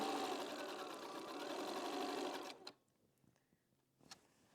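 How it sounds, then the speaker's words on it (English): A sewing machine stitches quilt scraps in a fast, steady run of close, loud mechanical whirring that stops abruptly partway through, followed by a few faint clicks and handling sounds. "Okay, so I've just been sewing these."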